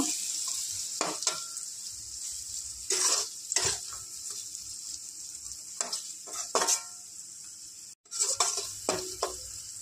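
Greens with salt and turmeric stirred in a frying pan, with a soft background sizzle and separate scraping strokes of a spatula against the metal pan, some sharper clinks, close by and fairly quiet, with no voices.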